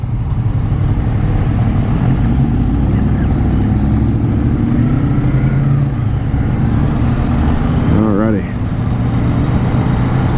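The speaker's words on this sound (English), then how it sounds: "It's one of those engines that you just don't realize is working for you. It's so quiet." A Yamaha FZ-09 motorcycle engine runs smoothly and quietly under light throttle, a low steady drone beneath someone talking over it throughout, with a brief rising tone near the end.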